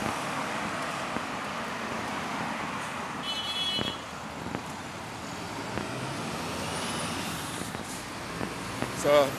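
Steady road traffic rumbles along the Luton & Dunstable busway in the UK on a morning walk, with trucks, buses and cars passing close by and a brief hiss of air brakes.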